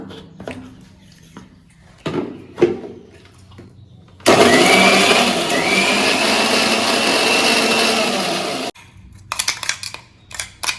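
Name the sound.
mixer grinder blending onions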